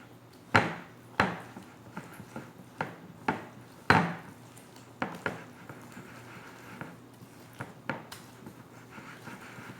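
Eggs being mixed into homemade brownie batter in a bowl, a spoon or whisk knocking against the bowl in a dozen irregular clinks and taps, close and fairly quiet, with soft scraping between.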